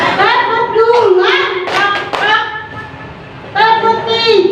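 During a school positive-culture activity, voices chant a counting call while the group claps in two quick bursts near the middle, the claps close and clear between the chanted lines.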